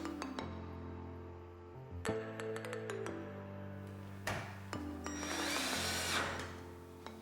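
A power screwdriver drives screws back into a dishwasher control panel in short, separate whirring bursts, with faint clinks of metal and tool handling between them.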